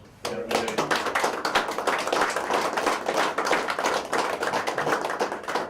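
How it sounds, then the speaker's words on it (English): Audience at an annual general meeting of the Hermes association breaks into applause, starting abruptly and continuing as close, dense clapping from a room full of people. "I think I deserve one more applause"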